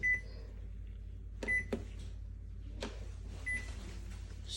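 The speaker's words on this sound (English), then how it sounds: "Stupid microwave." A microwave oven runs with a low steady hum, punctuated by a few sharp beeps and clunks from the door or buttons, quiet and close.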